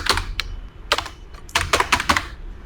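A password is typed on a computer keyboard in several quick bursts of close, clicky keystrokes separated by short pauses.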